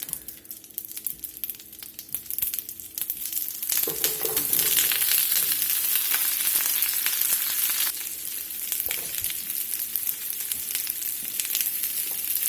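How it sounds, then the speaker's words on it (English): Vegetables sautéing in olive oil in a skillet over medium-low heat, a loud continuous sizzle that swells and crackles, broken by scraping and stirring clatter from the pan. "So we're just going to saute these over a medium-low heat to get a good color on them."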